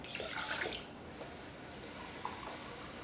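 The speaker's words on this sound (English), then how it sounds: "go ahead and add the 2 cups of water since we did 1 cup of rice" Water pours briefly from a tap into a pot holding one cup of raw rice, a short splashing gush that stops, followed by a faint trickle and quiet room tone.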